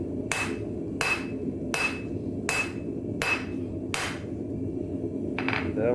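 A blacksmith's hammer strikes hot metal on an anvil while an apprentice forges a knife, six evenly spaced ringing blows roughly a second apart, loud and close, with a steady workshop hum underneath.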